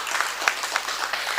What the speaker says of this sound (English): So a huge round of applause and a huge thank you.